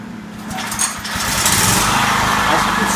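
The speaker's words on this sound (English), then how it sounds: "Now, what I'm going to do is I'm going to start this motor." A small motor fueled by a mix of 10% propane and 90% hydrogen starts up and settles into a loud, steady, buzzing run close to the microphone, with a voice talking over it.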